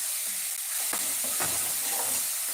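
Ingredients for an egg gravy sauté in a pan, a steady close sizzle with a few scraping stirs of a spoon against the metal.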